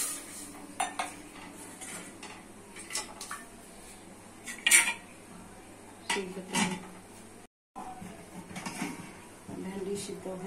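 Boiled okra being mashed in a pan with a metal utensil, giving irregular scraping, clinking and tapping of metal against the pan at close range, with intermittent background voices.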